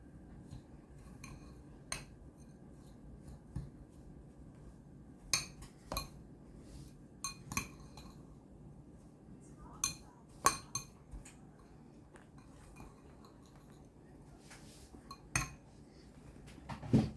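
A spoon clinks and scrapes against a pie dish while peach Kool-aid pie filling is stirred together with sugar and graham crackers, producing soft, irregular taps over a quiet background.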